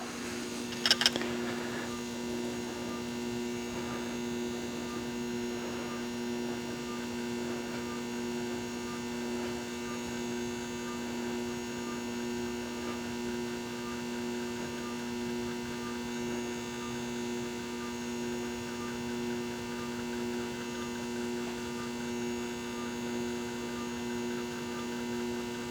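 A low-power fan runs steadily, giving a soft, constant hum with faint tonal whine and no changes in level throughout.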